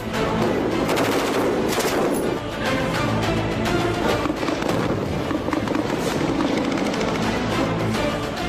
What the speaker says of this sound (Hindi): ये यहाँ पे एसएसजी कमांडोज जो है वो अपनी फायरिंग की प्रैक्टिस करते हैं